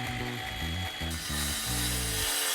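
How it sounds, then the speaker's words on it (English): A saw cutting window casing, a harsh buzzing cut with rhythmic stuttering strokes over steady noise, close and loud. "So we just need to cut the casing, just trim off a little bit"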